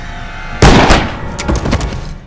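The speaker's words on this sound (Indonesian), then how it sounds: "Dia ditembak oleh Anton Ngondoy yang tiba-tiba sudah berada di sana." A gunshot from a film scene, a single loud sharp blast with a brief ringing tail, followed by a few fainter bursts of noise.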